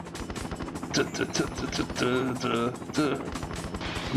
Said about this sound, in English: helicopters coming after us